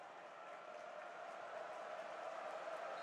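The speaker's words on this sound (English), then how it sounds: "Crowd really giving it to them now." Basketball crowd roaring steadily at an Oakland versus Purdue college game, a dense, sustained wall of cheering that swells slightly louder toward the end.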